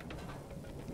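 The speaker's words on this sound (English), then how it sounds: "See whether the rain stops before sunrise" Steady rainfall in the survival game Subsistence, a continuous soft hiss of drops close by with no talking over it.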